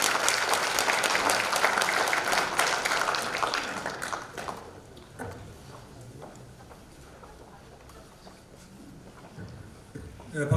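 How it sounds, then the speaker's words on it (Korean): An audience claps steadily at a constitutional-reform debate forum, loud for several seconds, then thins to scattered claps under a room tone before a final few claps. "박수로 환영해 주시기 바랍니다."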